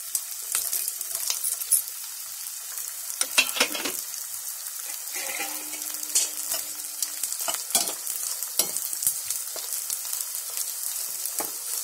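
Pieces of edible gum sizzling and frying in hot ghee in a pan, a fine crackling hiss broken by occasional stirring scrapes and clinks, fairly quiet and close, with no talking.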